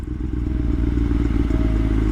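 Steady low engine rumble of a motorcycle in motion, loud and continuous, with wind noise and faint rattling throughout.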